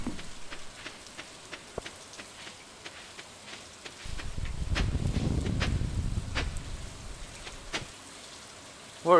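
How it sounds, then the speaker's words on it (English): Soft steady rain pattering down in the farming game Stardew Valley, a faint continuous hiss that swells louder midway with a denser low rumble before easing again, with no talking. "Work in the rain."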